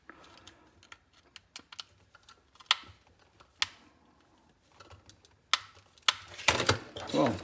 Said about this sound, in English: it takes a bit of effort to remove the little screws